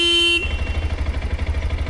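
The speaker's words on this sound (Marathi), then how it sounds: "ह्याचा हॉर्न ऐकू शकता तुम्ही." A TVS Apache RTX 300 motorcycle horn gives one short, loud, steady electric beep, then cuts off, leaving the low rumble of the bike's idling engine close by.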